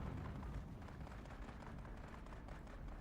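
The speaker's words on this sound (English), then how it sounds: "Hear a lot of gunfire." Distant gunfire in the Dune video game, a steady rumbling wash of bursts and booms going on without a break, with no talk over it.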